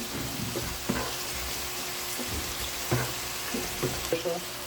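Vegetables for chop suey, including carrots, green peas, snow peas and broccoli, stir-fried in a pan, giving a steady sizzle with a few louder clattering stirs and scrapes spaced through it.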